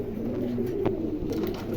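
A Mundi pigeon in moult coos softly and repeatedly over a low background hum, close by, with no one talking.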